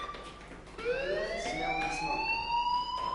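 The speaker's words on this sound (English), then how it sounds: "do you hear that fire alarm?" A fire alarm sounds in the video game Life is Strange: a rising electronic siren tone with bright harmonics starts abruptly and keeps wailing steadily at close range, with no talk over it.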